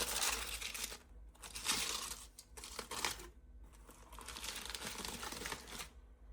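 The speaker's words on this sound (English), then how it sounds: "There's quite a lot of tin foil on this, so just have to rip it off." Tin foil is torn off grilled beef short ribs cooked low and slow on a charcoal grill, several loud crinkling, ripping bursts close up with short quiet gaps between them.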